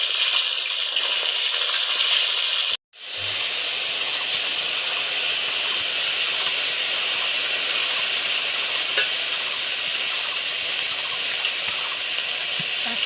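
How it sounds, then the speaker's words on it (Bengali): Thin slices of fish fry in hot oil, a loud, even hissing sizzle that cuts out for a split second near the start and then carries on steadily, close up. "মাছ বেগা জ্বলে যাচ্ছে, পাতলা পাতলা মাছ হয়েছে সেই জন্য"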